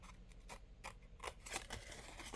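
Scissors cutting paper, faint close crisp snips in a quick irregular series over about two seconds.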